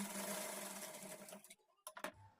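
A sewing machine stitches blouse fabric in a steady, close whir for about a second and a half, then stops, followed by a few short clicks and knocks as the cloth is handled.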